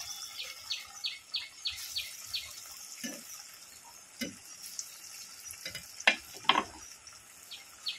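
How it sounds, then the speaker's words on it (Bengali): Raw banana tikka kebabs fry one by one in hot oil in a kadai over low heat, making a soft, quiet sizzle with scattered small pops and a few light utensil taps. "এবারে একে একে ভেজে নেব।"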